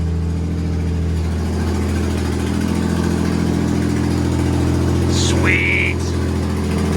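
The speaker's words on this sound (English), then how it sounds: "She's finally idling, baby." A twin-turbo 1965 Ford Mustang wide-body hot rod idles steadily with a deep, rumbling drone, close and constant throughout, and a brief high squeal rises near the end.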